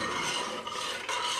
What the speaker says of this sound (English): just going to give that a mix through